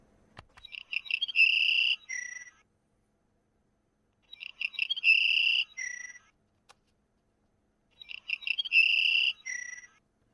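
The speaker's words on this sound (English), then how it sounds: "Number 231," A Savannah Sparrow sings three times, each song a run of thin, high buzzy trills ending in a lower buzz, spaced evenly by short silences and heard clearly and alone.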